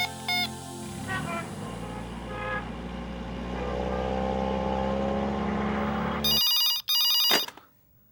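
A telephone rings in two short electronic bursts near the end, after a stretch of low vehicle engine rumble.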